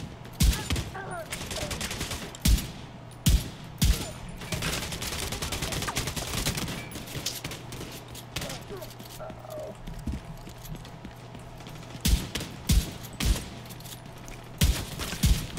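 Gunfire from rival factions fighting in the video game The Division 2, scattered sharp shots and short bursts ringing out amid a busy game soundscape, with people talking over it.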